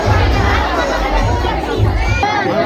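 A large crowd of worshippers gathered at Kelamba temple creates a loud, close murmur of chatter and scattered shouts, with low rumbling and overlapping voices throughout.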